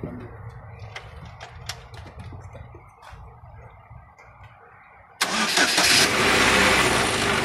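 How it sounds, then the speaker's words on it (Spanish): Chevy Cobalt engine cranking and catching, with a sudden loud burst of broadband engine noise and whirring after a quieter stretch of low rumble and faint clicks, the running engine close and steady to the end. "Neutral, freno de emergencia y lo echan a andar."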